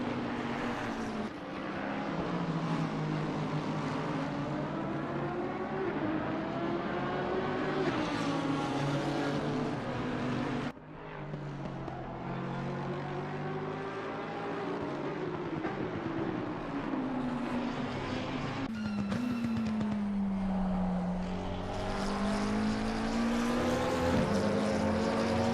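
On board the number 4 McLaren race car at Silverstone in Assetto Corsa Competizione, its engine wails loud and steady with rising and falling pitch through gear changes, one brief lift near the middle, nothing else over it.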